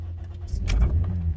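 A misfiring car being cranked on a second start attempt, a short, low churning rumble with a faint click, close by and fairly quiet, with no engine catch.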